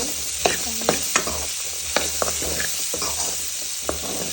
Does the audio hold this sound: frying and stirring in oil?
yes